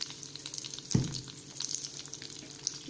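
Stuffed okra sizzles gently in a little oil in a pan, a soft continuous crackle with a brief louder clatter near the start, probably from the pan being handled.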